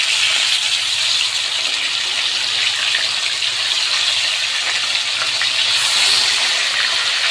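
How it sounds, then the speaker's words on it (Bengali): Chicken pieces frying in oil in a pan after being turned over, a dense, steady hiss and crackle held close and loud throughout, with no voices. "উল্টে দিয়েছি। আরও ওই পিসটা 2 মিনিট ভেজে নিব।"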